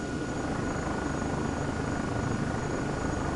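A Comanche helicopter in Comanche 4 hovers to land, its steady loud rotor and turbine roar constant throughout with no talking.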